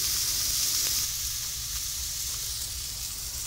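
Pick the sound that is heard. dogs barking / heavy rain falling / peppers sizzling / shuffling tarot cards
peppers sizzling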